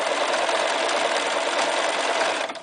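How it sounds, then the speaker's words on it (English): A Bernina 1230 sewing machine running a stretch stitch, a continuous close buzzing whir at even speed that eases off just at the end. "Basically, it does 3 rows of stitching on top of one another. 10 is a stretch stitch."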